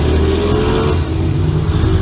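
Honda VTEC motorcycle engine revving hard on a night ride through the street, a loud continuous roar with a steady rising pitch that dips briefly midway, close by and with no voices.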